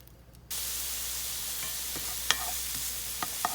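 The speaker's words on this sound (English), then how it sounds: "You want to cook those onions so they get real good and caramelized." White onions hit hot oil and bacon grease in a pan, a steady close sizzle with a few sharp pops and spatters, no voices.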